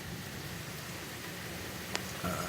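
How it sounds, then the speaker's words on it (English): Rain falls outdoors as a steady broadband hiss throughout, with a brief sharp click near the end. "Oh, it is raining."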